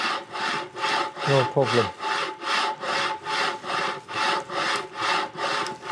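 A hand saw cuts through timber in a steady back-and-forth rhythm, about two strokes per second, rasping loudly and close while throwing off chippings and sawdust; a brief spoken phrase breaks in partway.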